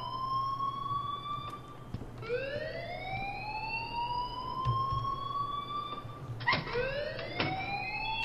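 A wailing electronic alarm in the video game Life is Strange sweeps upward repeatedly in rising tones, looping several times at moderate volume with a few clicks in between.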